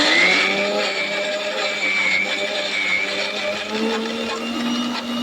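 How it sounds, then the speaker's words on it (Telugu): A mixer grinder whirs loudly and steadily while grinding garlic and chillies, its motor pitch wavering slightly for several seconds. "ఇప్పుడు మంచిగా మిక్సీ పట్టేసుకున్నాం మనము"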